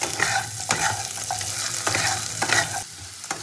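Drumstick (moringa) pieces and potatoes sizzle in oil in a wok, with a steady frying hiss broken by several sharp scraping stirs of a spatula, close and clear with no talking.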